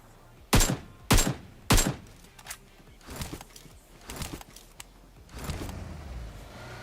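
AKM rifle fire in PUBG Mobile: three sharp, loud single shots about half a second apart, followed by several softer, more distant shots and thumps.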